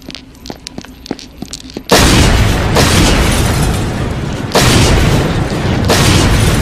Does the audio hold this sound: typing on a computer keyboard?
no